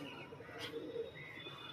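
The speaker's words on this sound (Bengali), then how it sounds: "এই পায়রা ল্যান্ডিং করতে আসছে" A pigeon gives a soft, faint coo as it comes in to land, a brief low call over quiet outdoor background.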